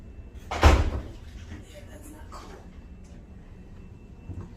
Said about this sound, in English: You want to close that door?